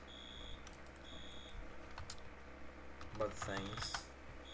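Repeating electronic alarm beeps from a bank in the Roblox game ER:LC, steady short tones at regular intervals under close keyboard clicking, with a brief spoken voice toward the end.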